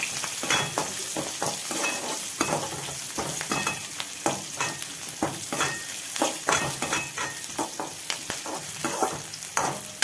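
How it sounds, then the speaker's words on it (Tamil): Onions sautéing over high heat in a pan, a steady loud sizzle broken by frequent scraping stirs of a spatula, close and continuous throughout with no voices. "இங்கே வெங்காயம் சிம்மில் வச்சுருக்கிறதுனால இன்னும் வேகாமல் இருக்கு. இப்போ ஹையில் வச்சு வதக்கிடலாம்."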